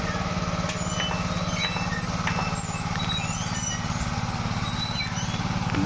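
A small 7 hp engine on a Thai-made two-wheel walking tiller rigged to pull a cart chugs steadily and loudly nearby, a constant rapid single-cylinder putter with faint clatter over it, no talk.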